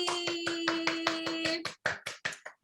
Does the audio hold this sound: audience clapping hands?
yes